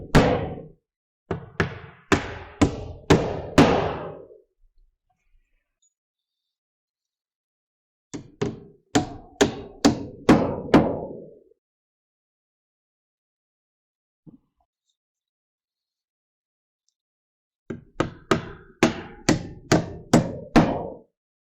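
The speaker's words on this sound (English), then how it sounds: "So I'm just going to finish nailing." Nails hammered into roof sheathing on rafters, struck in three quick bursts of about five to eight sharp, close blows each, separated by pauses, with one lone tap in the middle gap.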